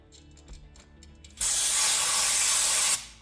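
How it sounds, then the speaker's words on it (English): Cleaner sprays into the PCV valve chambers of a 2015-2016 Honda CR-V 2.4 liter engine, a loud, steady hiss for about a second and a half after soft handling clicks and knocks, then cuts off abruptly. "You want to spray into those side chambers."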